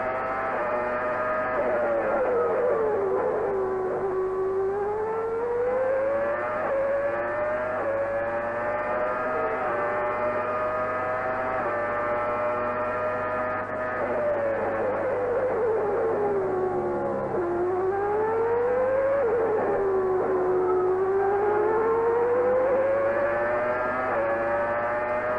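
Michael Schumacher's Formula 1 car leaving Luffield at Silverstone on a flying lap, its high-revving engine wailing steadily, with pitch climbing through gears and dipping at corners, loud and continuous with no talk.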